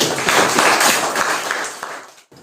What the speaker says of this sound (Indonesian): kasih tepuk tangan dari teman kita